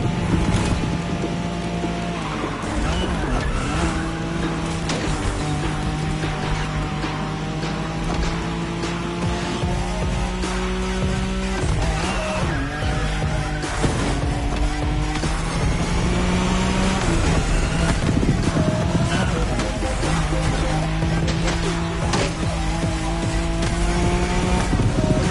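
A Nissan Skyline races flat out along the Wangan Bayshore route in Tokyo in a video game. A loud, steady engine roar rises and drops through several gear shifts, with brief tire squeal and no talk.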